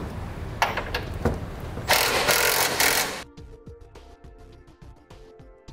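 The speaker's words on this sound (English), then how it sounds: "Then we'll use a 3/4" inch socket to tighten up our flange nuts on our carriage bolts." A power tool drives a 3/4-inch socket to tighten flange nuts on carriage bolts while a Curt front-mount trailer hitch is fitted to a 2016 Chevrolet. It gives loud close whirring bursts that stop abruptly, then a quieter stretch of clicks and rattles.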